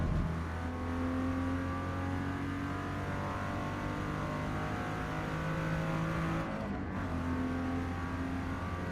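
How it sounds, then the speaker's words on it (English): A race car engine in Forza Motorsport, with a steady droning induction note holding nearly constant, then briefly shifting pitch before settling back. "In some games, the induction noise of this engine can actually be really grating on the ears."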